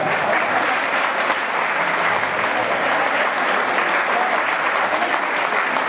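Steady, dense audience applause at a jota gala in Puerto de Sagunto, Aragon, a loud continuous wash of clapping from a large crowd with no break.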